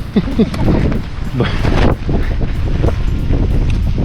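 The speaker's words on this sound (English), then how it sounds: "Not only is it raining, but it's windy." Steady, loud wind buffeting a microphone outdoors on a rainy day in Haines, Alaska, a continuous roaring rush with gusty surges throughout.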